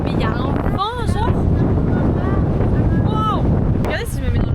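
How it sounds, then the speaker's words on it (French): Strong gusting wind buffets a camera microphone outdoors in the south of France, a loud continuous rumble throughout while voices talk over it. "Vous vous rendez pas compte du vent?"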